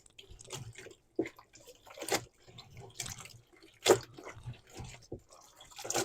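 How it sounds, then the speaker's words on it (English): A dyed shirt sloshed around in a tub of neutralizing solution, irregular close splashes and drips of water with short pauses between movements. "Let's get that in the neutralizing solution. Just agitate that around."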